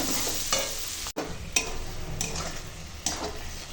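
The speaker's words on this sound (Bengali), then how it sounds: "ধনে পাতাটা দিয়ে একটু নাড়িয়ে নেবো ভালো করে মিশিয়ে নেবো" Coriander leaves being stirred into a cooking vegetable dish of snake gourd, pumpkin and green chickpeas, with a soft steady sizzle and a few spoon scrapes against the pan.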